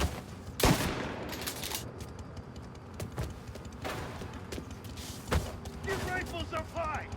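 Rifle gunfire in the video game Mafia Definitive Edition: scattered sharp shots and bursts cracking over a busy, noisy combat backdrop, with a few louder close reports.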